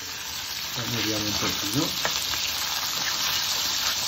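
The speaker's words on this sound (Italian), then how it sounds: "abbiamo aggiunto anche un po' di vino bianco, infatti sta sfumando per bene" White wine reducing in a hot pan with monkfish and small shrimp for paccheri, a steady loud sizzle and frying hiss throughout, while someone speaks briefly in Italian.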